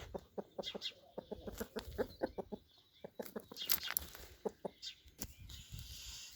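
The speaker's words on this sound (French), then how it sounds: "ici 3 poules marrants, un coq de poule" Hens and a rooster on a small French ranch cluck and squawk in quick, uneven bursts, fairly close, with a brief crowing flourish and a voice speaking softly underneath.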